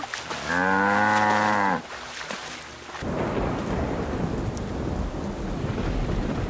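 A single long, loud cow moo, followed by steady rain hissing with low rumbling underneath.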